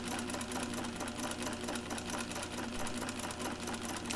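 A sewing machine runs steadily, stitching a gathered seam on a blouse near the fabric edge, a continuous close mechanical whir with rapid needle clatter and no pauses.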